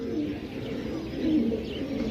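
Pigeons cooing close by in a loft in Jhelum, Pakistan, a low, continuous throaty warble over a short stretch with no talking.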